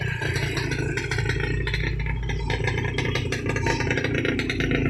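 An antique 1997 Suzuki RGR 150cc motorcycle engine idles steadily, a dense continuous mechanical rumble with light clatter, close and unbroken.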